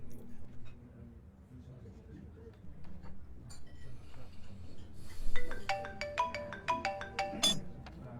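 A mobile phone ringtone of short, bright repeating tones rings out over a meal, starting partway through, loud and close, with conversation and table sounds underneath.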